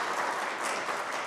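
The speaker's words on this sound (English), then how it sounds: "a round of applause for Sid" Audience applause at a high school pitch competition, a dense, even wash of clapping that holds steady and fairly loud for a brief moment.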